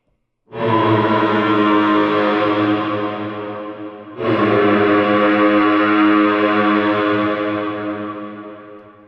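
A buzzy electric kazoo drone plays two long sustained notes through two stacked reverbs, heavily drenched in reverb and distortion, loud and washing out into a large, darker space.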